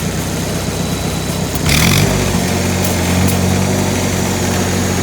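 A Lincoln SA200 welding machine's engine drones steadily close by, then rises in pitch and roars louder for the rest of the stretch, with no talk over it.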